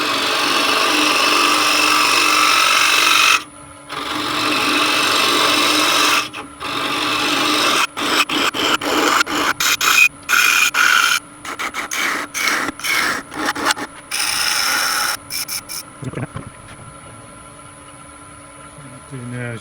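Spindle gouge scraping and rasping as it hollows the inside of a small threaded wooden trinket box spinning on a lathe, a steady broadband tearing with frequent brief stops and restarts, close and fairly loud.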